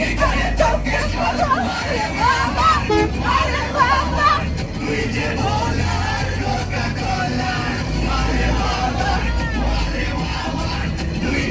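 A running bus at night full of passengers: a steady low engine rumble under loud crowd chatter, yelling and babble that continues without a break throughout.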